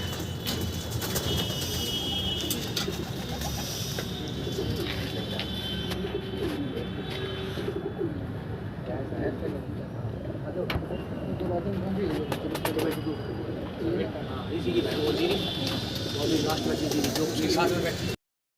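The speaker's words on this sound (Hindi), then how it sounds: "सुनील भाई के भाई 17 कबूतर बैठ गए हैं पूरे पूरे पर्चे में भाई" Pigeons coo repeatedly amid a busy outdoor backdrop, with people talking throughout and occasional wing flaps and clatter.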